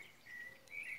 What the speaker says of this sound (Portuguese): Sabiá laranjeira cantando bem ao fundo.